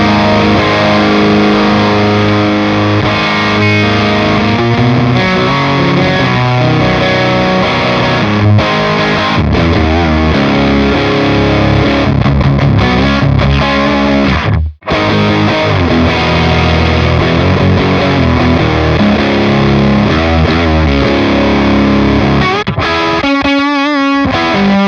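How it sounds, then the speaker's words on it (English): Electric guitar played through a fuzz effect on a Cortex unit, a thick, saturated distorted tone sounding loud and continuous with sustained chords and riffs, one brief dropout midway and no talking. "Let's see what happens if we enable this fuzz."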